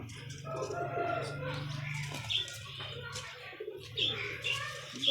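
Pigeons coo in soft, repeated throaty rolls inside a pigeon club's loft, with brief bursts of wing flapping and a few chirps, all fairly quiet and close, with a voice speaking at times.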